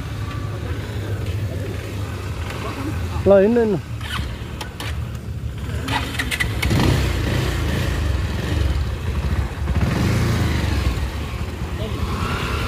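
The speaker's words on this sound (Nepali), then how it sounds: "ओइ पछाडि बाइक आउँदै रहेछ नदेखेको" A motorcycle comes up from behind on a rural hill road, its engine note rising and growing closer under people talking.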